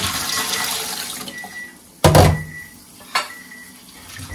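Tap water gushes steadily into a pot of cooked spaghetti in a kitchen sink, then a loud metallic clunk and a second knock of the pot break through the flow.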